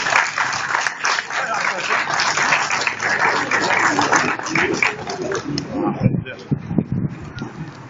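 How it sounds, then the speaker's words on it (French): A crowd outdoors at a rail strike rally in Boulogne-sur-Mer claps steadily, with wind buffeting the microphone and scattered voices and cheers mixed in, the clapping thinning toward the end. "Je pense qu'on peut les applaudir sur ce sujet."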